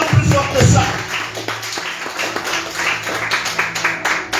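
Church congregation at a Sunday Christmas service clapping and cheering in acclaim, a steady mix of handclaps and voices filling the room, with a few sharper claps near the start.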